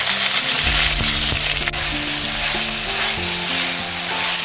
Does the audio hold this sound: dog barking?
no